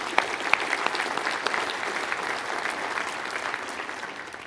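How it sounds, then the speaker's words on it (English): A room of guests at an annual business luncheon breaks into applause, sustained hand clapping with a few sharper claps standing out early, holding steady then tapering slightly near the end. "Let's give them a round of applause."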